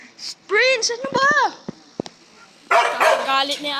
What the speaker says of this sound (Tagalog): Galit ni aso na ito.